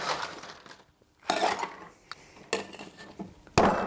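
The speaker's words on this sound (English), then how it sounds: "Now I'm going to go ahead and fill this up with cubed ice and get the lid on." Cubed ice tumbles into a cocktail shaker for an espresso martini in loud, clattering bursts separated by short pauses. Glassy clinks ring out, and a final sharp knock comes as the lid goes on.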